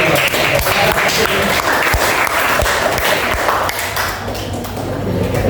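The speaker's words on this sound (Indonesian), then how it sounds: "aplaus untuk tim" A classroom of students applauds a team, producing continuous dense clapping that holds steady and slightly fades toward the end, with a few thumps mixed in.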